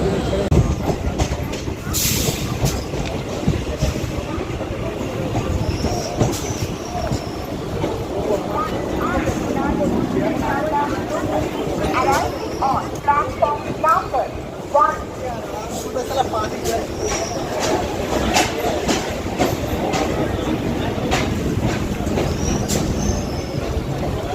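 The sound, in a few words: local train running on rails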